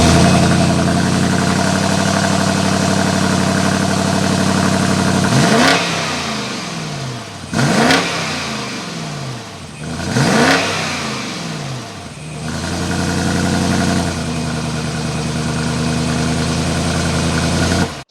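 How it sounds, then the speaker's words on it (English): A 2021 BMW X7 M50i is started and revved several times in bursts, each sharp rise in pitch falling back to a steady, loud exhaust idle between throttle blips. "start it up so we can hear that exhaust note"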